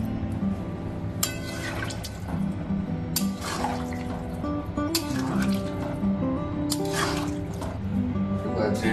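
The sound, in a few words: more water poured into pan of potato cauliflower curry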